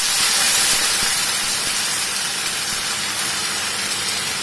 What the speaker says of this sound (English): After you fry it, you want to add the whole can of tomatoes.